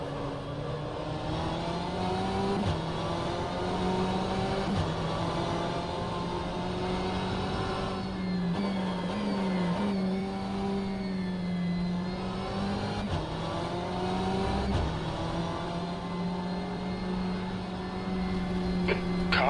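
A GTE race car engine at Sebring in rFactor 2, droning loud and steady from inside the car, rising and falling through gear changes and revs over the whole stretch.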